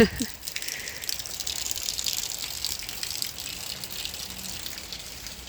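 Rainwater pours off a house roof into a garden during a downpour, a close, continuous splashing gush that holds steady without talk.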